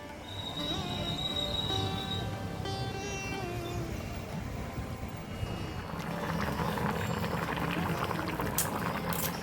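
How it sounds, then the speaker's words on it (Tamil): Kumutti greens curry bubbling at a boil in a pot, a steady wash of simmering, gurgling and hissing that carries on throughout with no talk. "எல்லாமே நல்லா கொதிச்சு கீரையெல்லாம் சூப்பராக நல்லா வெந்துருச்சு"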